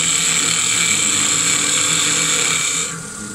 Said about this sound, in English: using a knife parting tool to part the end off